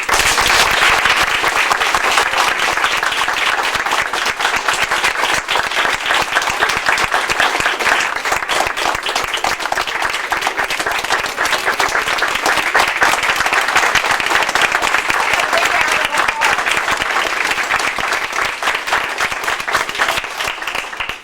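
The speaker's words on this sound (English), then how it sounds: "I'd like to lead a round of applause that says, thank you very much to Cheryl for all of that" Sustained applause from a crowd at a village celebration honoring the mayor, loud and even with many hands clapping, continuing without letup for the full stretch.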